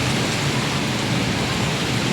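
Heavy thunderstorm rain pours down in a dense, loud, unbroken roar of drops drumming on surfaces, with no voices over it.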